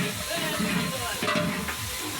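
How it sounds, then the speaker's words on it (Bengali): Sliced onions fry in a pan for a wedding-style beef rezala, giving a steady, close sizzle and hiss with light stirring scrapes throughout. "তো দেখতে পাচ্ছেন আমরা এখানে পেঁয়াজটা কিছুক্ষণ ভেজে নেব।"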